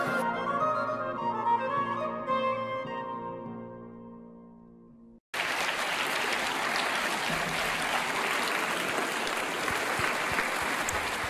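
A crowd applauds 200 students with loud, sustained clapping that starts suddenly after a sustained musical passage fades out.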